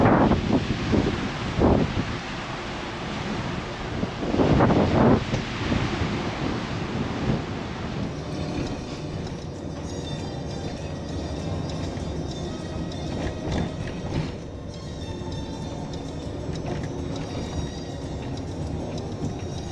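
Continuous broad rumble of a ferry under way at sea bound for Belfast, heavy wind buffeting the microphone throughout, loud and steady with gusty swells and no talk.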